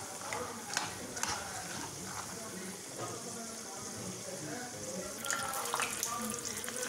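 Peanuts fry in oil for a spicy Kerala-style snack mixture, giving a steady broadband crackle with a few sharper stirring scrapes and a slight lift in intensity near the end.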